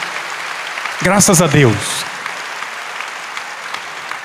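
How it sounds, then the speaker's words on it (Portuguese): Broad, steady applause from a large congregation at a Portuguese-language Catholic charismatic talk, honoring the Pope, heard at a distance under a short spoken phrase from a man partway through. "O Papa merece um aplauso"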